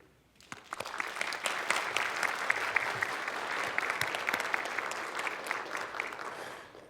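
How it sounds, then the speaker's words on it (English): An audience at a GDC 2019 talk breaks into applause, clapping starting abruptly and swelling into a dense, steady round of many hands in a hall before easing off. "One more round of applause."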